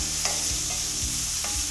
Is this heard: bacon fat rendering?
yes